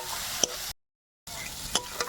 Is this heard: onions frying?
yes